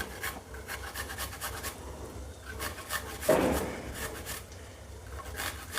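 A peeled garlic clove is rubbed on a small grater in a home kitchen, making soft, quick scratchy rasps close by, one brief stronger scrape partway through, with no voices.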